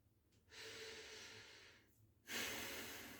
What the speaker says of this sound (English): Big breath, and exhale.